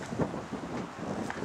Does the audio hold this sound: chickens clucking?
no